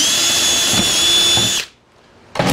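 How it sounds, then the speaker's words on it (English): A power drill bores a hole in wood, a loud close whine running steadily for about a second and a half, stopping abruptly, then starting again briefly at the end. "I'm just gonna drill the hole real quick."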